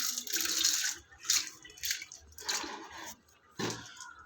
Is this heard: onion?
no